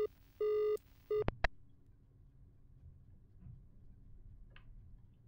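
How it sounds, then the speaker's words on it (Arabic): A telephone rings in the horror game Is Simon There: two short electronic ring tones sound in quick succession, followed by a couple of sharp clicks, then quiet hiss. "رن التليفون"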